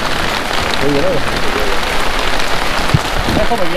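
Steady rain falls during a mountain trek to Kareri Lake, a dense close hiss of drops on surfaces throughout, with brief talk over it.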